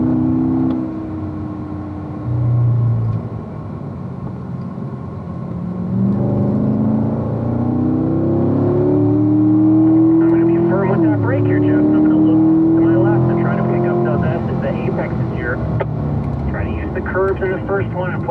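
A 2018 C7 Stingray Corvette drives hard around the Spring Mountain race track, its engine droning and rising in pitch as it accelerates, then easing off, loud and close with an instructor talking over it.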